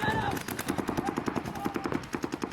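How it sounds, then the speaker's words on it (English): Paintballs striking a paintball bunker in a rapid burst of sharp cracking hits, a quick irregular rattle close by over a couple of seconds, with a faint tone briefly underneath. "you can hear the bunker getting shot."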